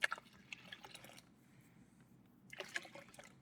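Water pours from a pitcher during mead making, coming as soft trickles and drips in two bursts with a quiet gap between them, fairly faint and close.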